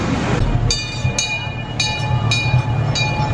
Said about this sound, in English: Time to board the train.